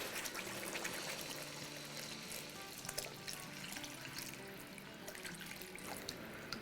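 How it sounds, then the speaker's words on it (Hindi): Two cups of water poured into a pan of meatball curry (kofta salan) being cooked on a stove, a steady close splashing and running water sound lasting several seconds. "चले अब हम इसमें 2 कप पानी डाल देते हैं।"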